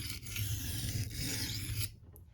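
A knife is drawn across a Benchmade 400 grit plated diamond plate with light pressure, giving two quick rasping strokes close up, each a gritty scrape, before stopping.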